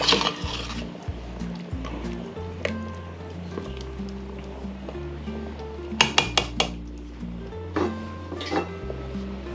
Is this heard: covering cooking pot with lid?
yes